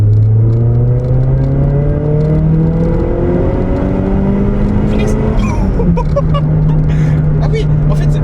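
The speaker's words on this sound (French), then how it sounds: "Tu te mets en deuxième, 4000 tours, et puis tu mets pied dedans quoi, jusqu'à 7000" A Peugeot 206 RC rally car engine revving hard in second gear, pitch climbing steadily from a low drone before dropping at a gear change, loud and close throughout.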